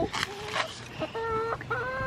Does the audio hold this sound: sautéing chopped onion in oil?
no